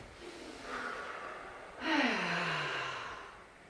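During a guided relaxation exercise, one person draws a slow, airy deep breath in, then lets out a longer audible exhale that trails off softly, close and fairly quiet.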